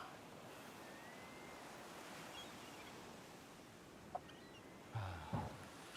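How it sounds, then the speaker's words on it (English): Gentle ocean waves wash steadily as soft, even surf noise, fairly quiet and continuous, with a couple of brief faint knocks and rustles near the end. "Nice calming waves."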